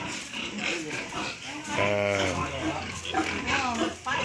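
A sow on a farm being looked over for sale gives a loud, drawn-out nasal grunting squeal near the middle, with shorter grunts around it, close by and mixed with someone talking.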